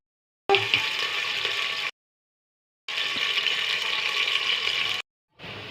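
Onions sizzle loudly in hot oil inside a pressure cooker, in two steady bursts of crackling fry separated by short silences, close up with no talk.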